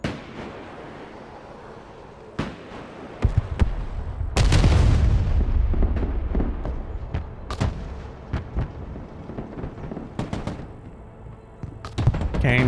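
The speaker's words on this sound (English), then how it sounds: "Okay, and the artillery's coming down." Artillery shells boom and crash in the strategy video game Broken Arrow, a string of sharp blasts with one heavy rumbling impact cluster in the middle, followed by scattered distant explosions and gunfire.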